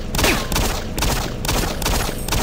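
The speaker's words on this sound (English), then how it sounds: "you want a pistol fight? I got plenty of pistol ammo." Rapid pistol gunfire from the video game Doom 3, loud shots repeating in quick bursts with brief gaps, dense and close with no talking.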